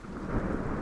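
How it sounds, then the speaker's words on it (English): Rain and thunder in a dark, stormy night scene: a continuous, loud, low rumble with steady rainfall hiss fills the whole stretch, with no voices. "It's raining."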